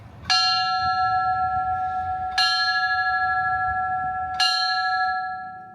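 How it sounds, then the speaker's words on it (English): Three loud, evenly spaced strikes of a church bell at a 9/11 memorial, each ringing tone hanging and decaying before the next strike about two seconds later. "Today started off with bells ringing at 8:46 and 10:28 a.m."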